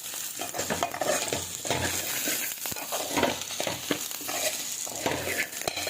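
Garlic cloves, green chillies and curry leaves fry in hot oil for an egg curry, giving a steady close sizzle with a spoon scraping and stirring through the pan.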